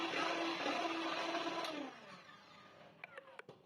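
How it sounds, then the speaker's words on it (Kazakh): An electric hand mixer runs at low speed through apple pie batter, giving a steady whirring motor hum that winds down after about two seconds, followed by a few faint clicks and taps. "Кейін миксердің көмегімен жақсылап араластырып аламыз. Жай жылдамдықта бастайсыздар."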